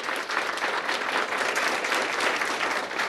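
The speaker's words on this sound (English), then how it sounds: "Please give her a big round of applause." Town hall audience in Maryland gives Health and Human Services Secretary Kathleen Sebelius a big round of applause: dense, loud, sustained clapping from many hands throughout.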